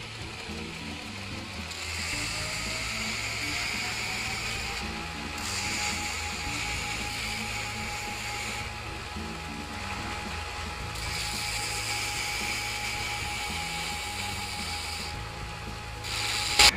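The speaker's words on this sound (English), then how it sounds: "So I'm just gonna keep grinding until I get the profile that I'm after." An angle grinder grinds a steel carving hatchet head to shape, a continuous loud grinding whine with slight pitch shifts as pressure changes, steady throughout and close up.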